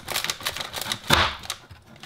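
A knife cutting through a Cadbury hazelnut cookie, a few close crisp crunches and scrapes over about two seconds, with a louder crunch in the middle.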